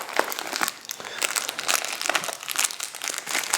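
A roll of plastic bags from a casualty response kit being handled, crisp irregular crinkling and rustling up close, fairly quiet, with no speech.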